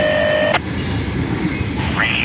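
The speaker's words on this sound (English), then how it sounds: "550 axles. Big train." CSX freight train rolling past on the rails, a steady loud rumble with tonal squeals and whistle-like whines sliding up and down over the track noise.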